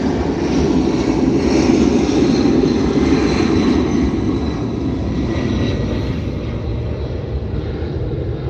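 Airplanes fly overhead in a flyby, a loud, steady broadband engine roar that fills the whole stretch without letup and eases slightly toward the end.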